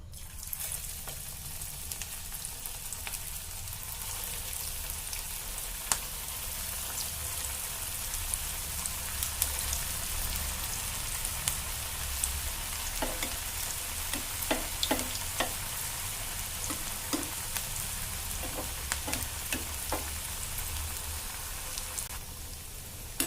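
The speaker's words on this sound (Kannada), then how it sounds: "ಅದನ್ನು ಕಾಸ್ಕೋಬೇಕು ಎಣ್ಣೆ ಆಮೇಲೆ ಒಂದು ಸ್ವಲ್ಪ ಗ್ಯಾಸ್ ಸಣ್ಣ ಮಾಡಿ ಅವನ್ನ ಹಾಕಬೇಕು" Pea cutlets frying in hot oil in a pan on a gas stove, a steady dense sizzle and crackle with scattered sharper pops, continuous and close, with no talking.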